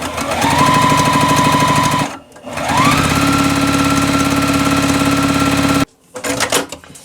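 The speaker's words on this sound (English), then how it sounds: "now that I have my strips ready, I can go ahead and sew them together." A sewing machine stitches fabric strips together for a quilt block, a loud, fast, steady mechanical whir that stops briefly, winds back up to speed, runs on, then halts with a few short bursts at the end.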